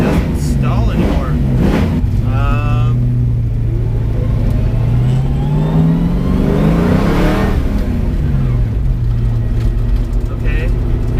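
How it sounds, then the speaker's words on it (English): A 1967 Ford Mustang engine being prepared for a track day revs loudly as the throttle is blipped, rising and falling in pitch over a steady rumble, with a voice talking over it. "The way the motor responds when I blip the throttle,"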